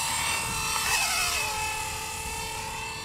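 A small RC helicopter with SAFE mode flies close by, its rotor making a loud, steady buzzing whine with a faint pitch waver midway. No voices are heard.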